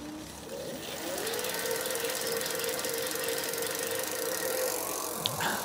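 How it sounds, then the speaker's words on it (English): A Yose Power e-bike conversion hub motor spins the back wheel, giving a steady rising whine that settles into a sustained electric hum with faint rattling, close and alone. "the motor makes a really nice noise. It's a good whew noise."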